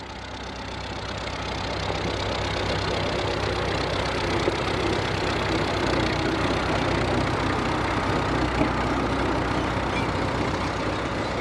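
A tractor engine idles steadily for the whole stretch, a continuous low rumbling drone at close range with no talk over it.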